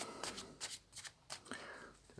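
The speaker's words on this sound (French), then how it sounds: "je vais tirer quelques cartes" Oracle cards are shuffled by hand in quick, soft riffling bursts close to the microphone, quiet and alone.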